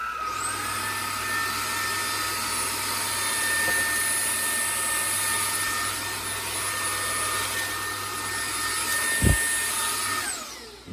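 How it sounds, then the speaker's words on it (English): A Comfyer Petrel cordless vacuum cleaner running on normal speed gives a steady high-pitched motor whine with airy suction noise, holding constant for about ten seconds before spinning down, with a brief bump near the end. "let's go ahead and try this out on the normal speed."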